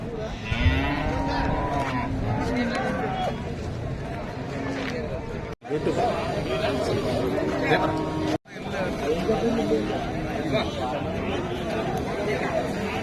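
Holstein Friesian cows and heifers low repeatedly at a busy cattle market in Erode district, Tamil Nadu, under a steady crowd babble and people talking nearby.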